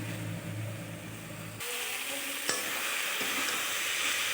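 Water spinach and fried potatoes are stirred in a hot pan, a steady sizzle that suddenly brightens and grows louder, with a sharp clink of a utensil against the pan partway through.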